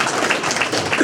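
Audience applause at a city councillor-at-large debate hosted at the Sons of Italy hall, a brief, steady wash of clapping from the room.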